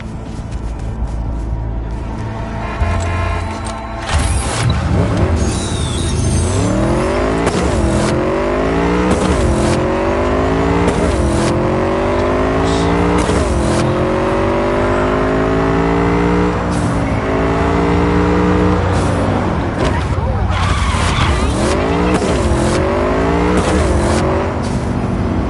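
A car in the Cyberpunk 2077 video game drives through Night City, its engine revving loudly and rising in pitch through repeated gear shifts as it accelerates, with no talking.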